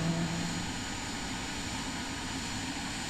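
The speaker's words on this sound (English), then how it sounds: "Aircraft starting up right now." An aircraft engine starts up in Microsoft Flight Simulator 2024 ahead of a departure from Paro, Bhutan, giving a steady, continuous low drone at moderate level with no talking.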